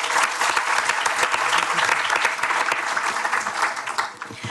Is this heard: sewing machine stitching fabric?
no